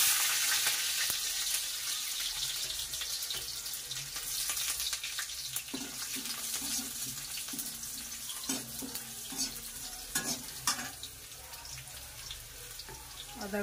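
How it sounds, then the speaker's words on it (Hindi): Garlic frying in hot oil in a pan while chilli paneer is cooked over high heat, a steady broadband sizzle with scattered crackles and some clinks of stirring, close and fairly quiet, with no talk. "सबसे पहले इसमें लहसुन डालूंगी।"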